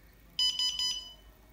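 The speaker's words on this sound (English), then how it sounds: "Let's just turn it off and you'll hear that it does a beep as it goes off." A Blueskysea B1M motorbike dashcam powering off, giving a short bright electronic beep sequence of three quick pulses, close and clear against a quiet background.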